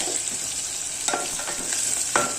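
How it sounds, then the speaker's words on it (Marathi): Onions fry until brown in a pan, making a steady loud sizzle broken by a few sharp scraping clicks from stirring. No voice is heard. "कांदा बघा ब्राऊन कलर झालेला आहे"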